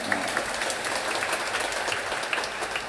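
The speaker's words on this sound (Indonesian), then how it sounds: "Kita beri tepuk tangan untuk OMK dan rekat." Congregation applause during a Second Sunday of Easter church homily, a steady wash of clapping at moderate level running for about three seconds with no talk over it.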